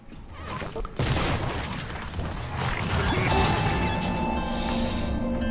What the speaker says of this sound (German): der hat es zur Explosion gebracht.